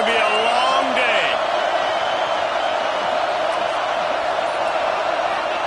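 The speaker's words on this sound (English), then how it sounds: "This crowd, full throat, spreading the eardrums and letting them know it's going to be a long day" A loud stadium crowd roaring at an American football game, a dense continuous wall of cheering that holds steady throughout, with a few whistles and shouts standing out at the start.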